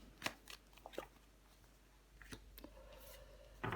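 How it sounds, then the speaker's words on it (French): A tarot card slid and laid over another card on a table: a few soft, close papery flicks and taps in a quiet room. "Je recouvre l'as de bâton."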